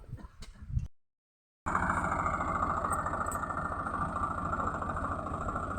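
A tractor engine idles and chugs steadily at close range in an oil palm plantation, a low continuous drone after a short burst of rustling and a brief gap of silence.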